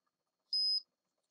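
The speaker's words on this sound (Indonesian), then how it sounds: "Udah ada suara beep." A single short, loud, high-pitched beep from a Mikrotik RB1100AH router board as it powers on, standing alone against near silence.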